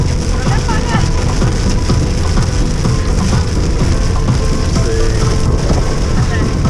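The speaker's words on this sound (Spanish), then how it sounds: "Está lloviendo de la nada." Rain pours on a highway through dense green jungle on the road to Tulum, a steady hissing wash heard from inside a moving car, with people talking over it.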